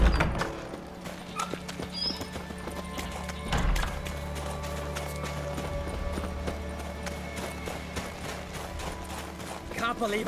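Steady rhythmic hoofbeats of a galloping horse with a neigh in The Witcher III: The Wild Hunt, close and continuous, alongside some talking.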